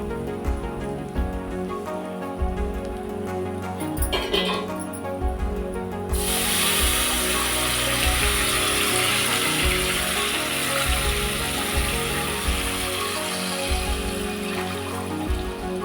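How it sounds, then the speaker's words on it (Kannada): Four glasses of water pour into a pot of frying ginger-garlic paste for dhaba-style jeera rice, a sudden loud rushing hiss that starts midway and continues steadily after quieter clattering of utensils. "ಇದು ಈಗ 4 ಗ್ಲಾಸು ನೀರು ಹಾಕೋತಾ ಇದ್ದೀನಿ ಇದಕ್ಕೆ."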